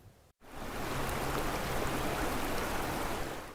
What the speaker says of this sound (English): There's a comfort in the creek.